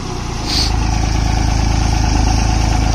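A tractor engine idles steadily nearby at low RPM, a low rhythmic diesel chugging that picks up slightly and then holds constant.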